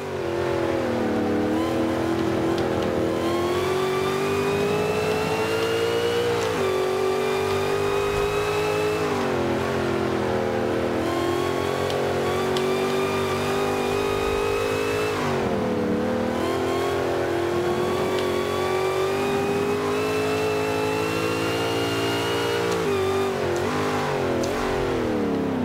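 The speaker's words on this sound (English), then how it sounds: "you can listen to all the supercharger noise" A supercharged Chevrolet El Camino built as a B-class race car in Forza 5 revs and accelerates hard through repeated gear changes, its engine note and supercharger whine rising and dropping in a continuous loud drone.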